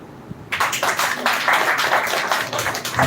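An audience at a women's education event breaks into clapping after a quiet start, a dense, steady patter of many hands filling the room for about two and a half seconds.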